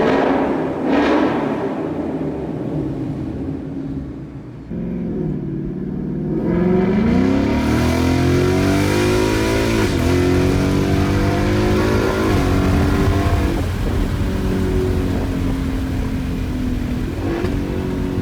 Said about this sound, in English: I ended up going with the Corsa Extreme active exhaust setup for my 2019 Mustang GT, and it sounds absolutely insane on track mode